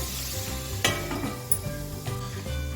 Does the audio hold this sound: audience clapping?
no